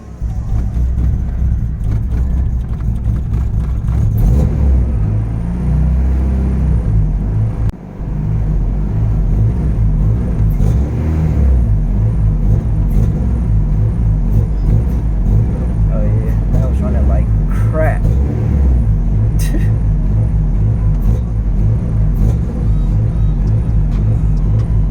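A car with a freshly installed tucked WireWorx wiring harness and no idle air control idles steadily at about 1,000 rpm. The deep, constant rumble stays close and loud, and voices can be heard over it at times.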